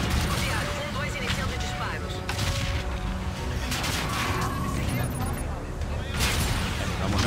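Gunfire in the Call of Duty: Infinite Warfare campaign, repeated bursts of shots and booms over a rumbling battle bed, with in-game voices speaking across much of it.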